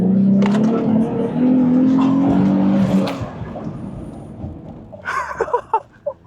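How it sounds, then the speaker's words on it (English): Nissan 350Z with its VQ engine driven hard on a track, a steady droning engine note that rises in pitch then fades and thins out into scattered tire and road noise, with a voice speaking over it. "350Z's VQ engine has enough torque to where he doesn't need to downshift."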